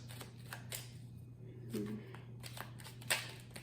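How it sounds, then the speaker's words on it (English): Tarot cards are shuffled in quick riffling bursts, close by, with a steady low hum underneath. "One more shuffle."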